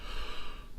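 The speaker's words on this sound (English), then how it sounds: "Sorry about that yawn, guys." A person's yawn, a drawn-out breathy exhale lasting under a second, close and fairly loud, with no talking over it.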